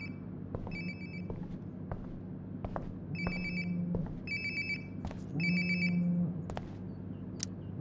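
In the video game Life is Strange: Before the Storm, a mobile phone's ringtone trills in three evenly spaced bursts, fairly quiet and close over a low ambient drone, with small clicks and taps between rings.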